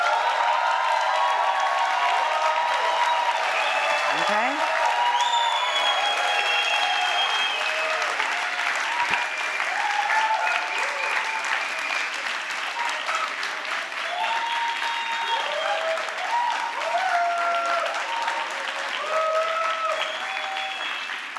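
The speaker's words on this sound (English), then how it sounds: "give me claps and whistles" A debate audience at a Better Politics Day event claps loudly and whistles after a vote on political parties and democracy, with sustained applause and repeated sharp rising whistles throughout, a brief spoken word at one point.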